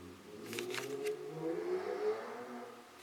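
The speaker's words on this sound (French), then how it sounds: "Je sais pas si vous avez entendu un super gros moteur là." A large engine revs loudly outdoors in a passing burst, heard faintly and at a distance as a rising and falling drone.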